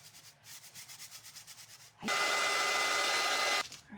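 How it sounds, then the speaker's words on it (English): Sandpaper scrubs back and forth over painted wood in quick rhythmic strokes, then a longer, louder stretch of continuous sanding before it eases off. "Give this a little bit of sanding."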